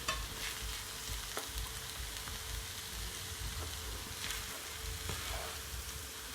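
Coconut callaloo saltfish fried rice being stirred in a pan, a steady soft sizzle with scraping spoon strokes, close and continuous with no talk.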